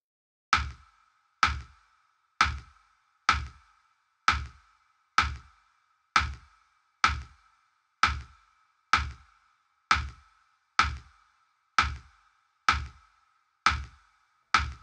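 A snare, a thick wooden pitched-down rim shot, hits alone in a steady, evenly spaced pattern of about sixteen dry knocks with short decays.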